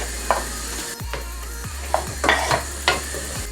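Mushrooms sizzling in a hot pan with repeated scraping and stirring strokes, a steady frying hiss underneath, close and without voices.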